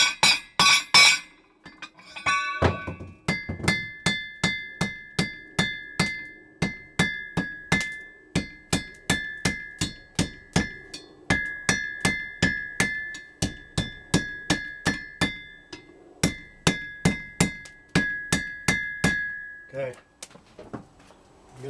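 A hammer strikes a forge weld on an anvil in steady, evenly spaced blows, each a sharp metallic clang with a bright ringing overtone, repeated dozens of times with a short pause partway through.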